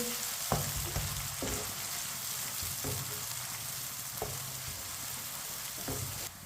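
Green garlic sizzles steadily in a pan with a constant hiss, broken by a few soft stirring scrapes at intervals, close and even in volume.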